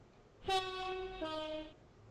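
A train horn in the Stepford County Railway video game sounds as a train passes through a station, two sustained harmonic blasts, the second briefly lower, lasting about a second and a half, loud and close with no talk.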